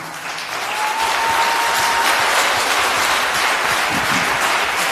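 A political rally audience in Armavir applauds with a steady, dense wash of clapping that swells in after a quiet start and keeps going at full strength.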